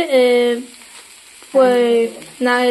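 Drained boiled soybeans hit a hot kadai and fry with a soft, steady sizzle, heard under a talking voice that keeps starting and stopping.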